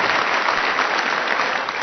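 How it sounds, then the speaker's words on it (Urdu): Steady, dense audience applause at an Urdu poetry mushaira, loud and continuous clapping filling the hall as a poet is welcomed, with no talk over it. "استقبال کریں زوردار تالیوں کے بیچ جناب اشفاق اصفی"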